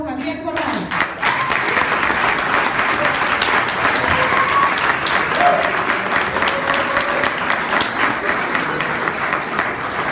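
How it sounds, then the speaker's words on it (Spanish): A crowd at a university talk gives Javier Corral a strong, sustained round of applause, many hands clapping in a dense, even roar that holds steady for about ten seconds, with a few voices faintly audible underneath. "Demos un fuerte aplauso al licenciado Javier Corral."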